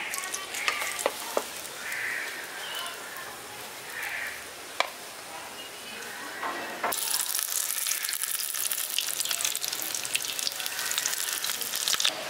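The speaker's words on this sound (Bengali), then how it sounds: "বাকি যে বেগুনটা আছে এরকমভাবে ভেজে নিচ্ছি" Eggplant slices frying in hot oil for a village-style yogurt eggplant dish, a steady sizzle with scattered clicks and scrapes, growing louder and denser in the second half, no talking.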